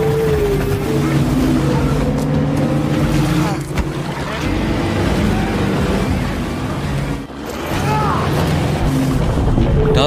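Motorboats racing in a film chase, with several droning engine tones that rise and shift, a couple of sudden dips and splashing bursts, and a voice speaking over the action.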